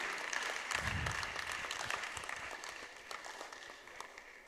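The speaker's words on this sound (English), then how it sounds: "Please, a round of applause." Audience applause at a 2025 awards event, a steady wash of clapping from a crowd that fades slowly over several seconds, with a brief low thump near the start.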